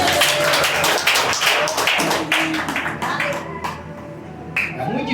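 A church congregation applauds in a steady, dense wash of clapping that fills the whole stretch, loud and close, with voices mixed in underneath.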